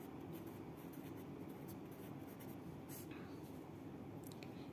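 A pen writes an answer on paper, giving faint continuous scratchy strokes with short lifted pauses, close but very quiet over low background hiss, with no talking.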